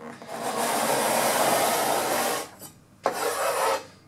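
A sharpening tool drawn along a woodworking scraper's edge to raise a burr: two loud, close, gritty rasping strokes, the first long and steady, the second shorter after a brief pause.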